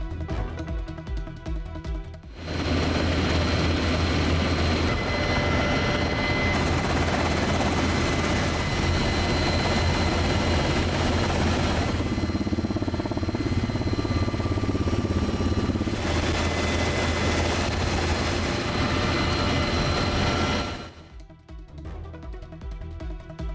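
A military rescue helicopter's rotor thumps and engine whine fill the air steadily and loudly for about twenty seconds, then fade as it moves off.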